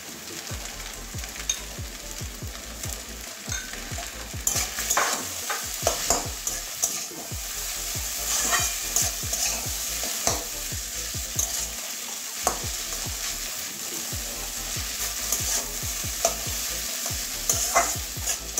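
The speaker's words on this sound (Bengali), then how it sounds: "এভাবে সমস্ত ডিম আর ইয়েটা চাউমিনটা একসঙ্গে মিশিয়ে নেব" Egg chow mein frying in a pan, with a spatula stirring and scraping in a steady rhythm against a constant oily sizzle that runs the whole way through.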